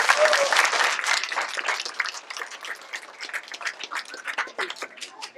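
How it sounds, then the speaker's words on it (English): A round of applause from the audience at a school science fair, crisp clapping that starts full and loud, then thins into scattered, uneven claps as it fades. "So give them a big round of applause."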